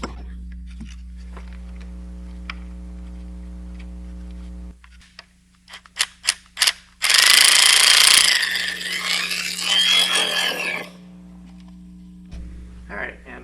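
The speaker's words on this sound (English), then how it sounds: "So now we need to loosen our positive on our battery." A ratchet loosening the positive battery terminal on a 2016 Mazda CX-5 gives a few sharp clicks, then a loud burst of rasping mechanical noise. A low steady hum runs underneath.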